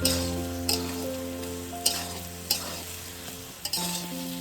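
Banana flower (mocha) fries in oil and is stirred with a spatula, with a soft continuous sizzle broken by several sharp scraping strokes against the pan, under quiet background music.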